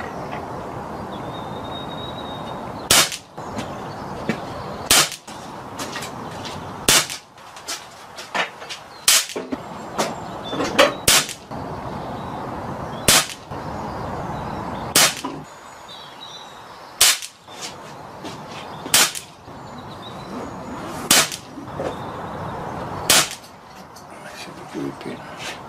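Rifle shots firing slugs at a target, sharp loud cracks repeating roughly every two seconds, about a dozen in a steady rhythm over a continuous background hum.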